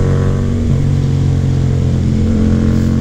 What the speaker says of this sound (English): this thing has tons of engine braking